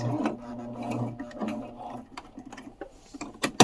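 Sewing machine stitching an award patch onto a sash, running slowly: a soft rapid mechanical whirring and ticking for about two seconds, then stopping, with a few light clicks and taps after it falls quiet.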